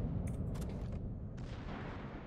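Several booming warship cannon blasts from a naval video game in quick succession, heavy and rumbling, followed by a sustained roar of distant explosions.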